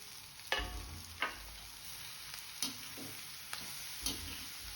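Ridge gourd stirred in a frying pan with a steady sizzle, a spatula scraping and clacking against the pan in distinct strokes about once a second, close and clear with no talking.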